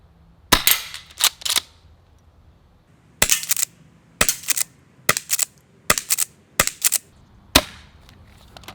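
An M870 Breacher airsoft shotgun fires a series of sharp, close cracks, some in quick pairs, spaced about a second apart with brief silences between, and no voices.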